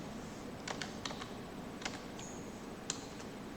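Faint keystrokes tap on a computer keyboard in quick, uneven clusters, with short gaps between bursts and a few isolated clicks under a quiet, steady room hiss.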